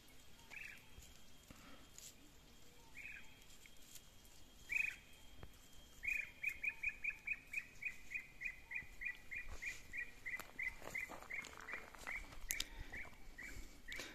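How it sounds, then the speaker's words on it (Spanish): A small bird called a relojilla sings in fire-burned countryside, a faint, distant run of quick repeated chirps speeding into a steady chattering series over quiet outdoor background. "Si escuchas cantar un pajarito por ahí, se llama relosilla."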